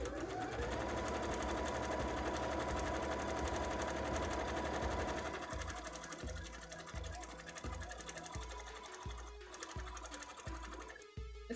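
A sewing machine stitches a cosplay petticoat, first as a fast continuous whirring run, then in short stop-start bursts of rapid needle clatter, close and steady with brief pauses.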